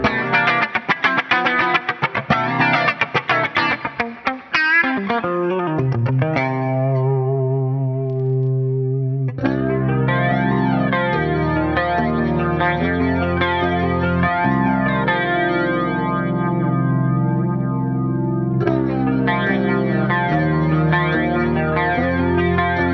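Clean electric guitar played through an Axe-Fx flanger effect called Electric Mystery, strummed chords then long ringing notes swept by a sweeping, whooshing modulation, close and alone for over twenty seconds.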